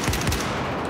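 A short, loud burst of rapid gunfire from an automatic weapon in a shooter video game, dense, close and continuous with no talk over it.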